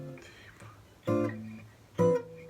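Guitar notes in a minor-key harmony line opening on a chord tone on top, a few plucked phrases with two sharper struck chords ringing out, close and moderately quiet.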